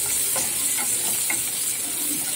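Onions sautéing in a pan for pasta give a steady, close sizzle with faint stirring scrapes and no talking.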